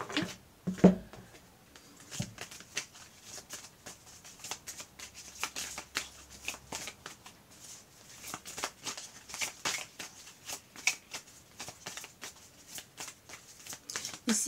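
Tarot cards are shuffled steadily by hand, a soft, continuous papery riffling and flicking close by, with a few brief thumps.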